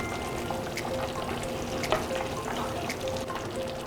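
Continuous bubbling and sizzling from a large pot of boiling salted water with a little oil and spaghetti, on the stove, close by, with faint clinks and a brief knock midway.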